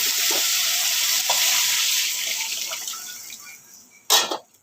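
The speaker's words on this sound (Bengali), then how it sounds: "এবার আমি জল দিয়ে দিচ্ছি।" Water poured into a pan of oil-released fried spice paste for a fish curry: a loud, close, steady sizzle that gradually fades and softens, ending with a sharp metallic clank against the pan, with no talk.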